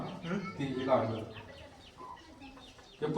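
Chickens cluck softly nearby, a few short scattered calls over a low background murmur.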